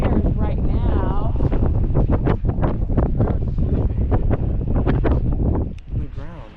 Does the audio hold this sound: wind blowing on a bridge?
yes